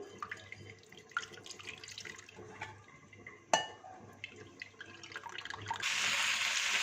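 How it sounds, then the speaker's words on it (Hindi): Water is poured into a pan over strained tamarind pulp while a pumpkin curry is cooked, a soft splashing trickle with clinks of the pan, swelling into a steady louder pour near the end. "पैन में 1 कप का चौथाई हिस्सा पानी शामिल करेंगे। थोड़ा सा इस तरह से हिला लेंगे और इसे गूदे के ऊपर डाल देंगे।"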